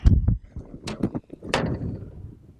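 A door being removed from a GeneralAire electronic air cleaner, heard as a few sharp plastic clicks and knocks followed by a scraping, sliding rattle, close and fairly loud with gaps of quiet between the sounds.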